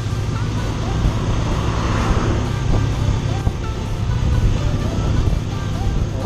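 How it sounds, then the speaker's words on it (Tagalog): Dense road traffic hums steadily throughout, a broad continuous rumble of passing vehicles with engine drone on a busy street during a motorcycle ride in the Philippines, loud and unbroken. "So, traffic talaga."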